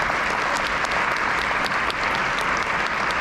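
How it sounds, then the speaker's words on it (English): A steady, dense round of applause from an audience at the end of a live conference session, a continuous wash of many hands clapping at even loudness with no talking over it. "Let's give a round of applause to Ashley."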